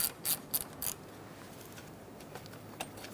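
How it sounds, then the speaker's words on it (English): A ratchet turns a 10mm socket to loosen the negative battery terminal nut on a 2012-2019 Fiat 500 1.4L. Four quick, fairly quiet clicking bursts come in the first second, then near silence with a faint click later. "you're going to remove your negative battery terminal first using a 10mm socket"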